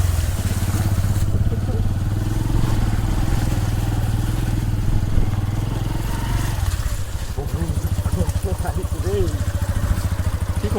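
A motorcycle engine runs steadily close by, a low continuous idle rumble with a slight shift in tone partway through, as the bike sits after getting stuck in water on a hill-road trip. Faint voices sound over the engine.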